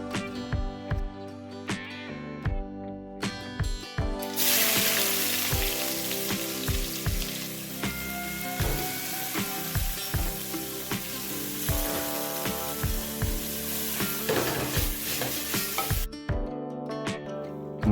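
Sliced onions sauté in a pan with mustard seeds and coconut pieces for beef roast, a steady loud sizzle broken by repeated sharp scraping strokes of stirring.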